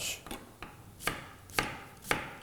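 Onions being coarsely chopped with a knife on a board: six or so crisp, evenly spaced chops, close and fairly quiet, with faint rubbing between strokes.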